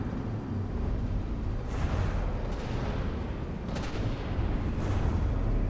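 Battleship turrets fire in the naval combat game Big Iron, booming shots landing at intervals over a dense, continuous roar of battle noise.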